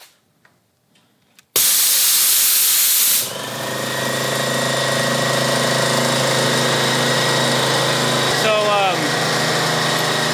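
An air pump powered by a Dewalt portable power station starts after a brief quiet and runs loudly as a steady motor drone with a hissy burst at first. It keeps pumping an item that is already nearly full.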